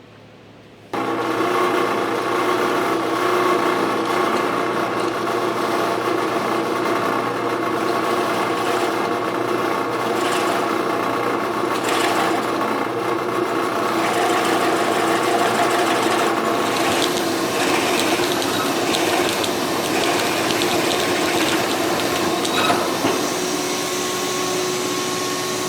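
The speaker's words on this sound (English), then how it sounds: "We're going to start drilling some holes." A power drill whines steadily and loudly up close, boring into wood for a long continuous stretch with slight shifts in pitch.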